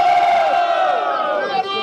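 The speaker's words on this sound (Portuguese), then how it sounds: "Muito barulho para Samurai e Lucas da Rocha" Crowd at a São Paulo rap battle semifinal roaring, cheering and shouting loudly in a continuous, dense wall of voices.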